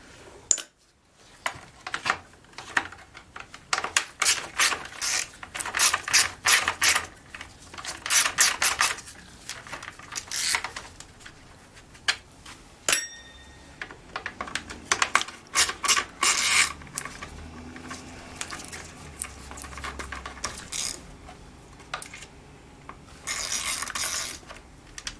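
Coarse-threaded T20 screws are backed out of a Craftsman string trimmer's plastic housing, giving bursts of close, dry ratcheting and clicking with short pauses between screws, no talking.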